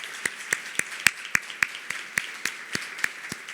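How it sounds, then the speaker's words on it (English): A small audience claps for a round of applause at an anniversary event, sharp claps in a steady, even rhythm, moderately close, with no talk over them. "Just want to give them a round of applause."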